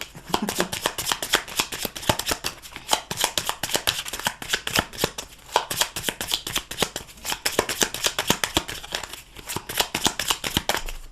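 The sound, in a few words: tarot cards being shuffled and cut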